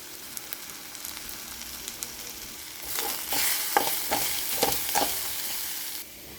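Crushed garlic, a pinch of turmeric, chili powder and salt hit hot oil in a methi dal tempering and are stirred, giving a steady crackling sizzle that swells into a louder, busier burst of frying and stirring midway, then eases off.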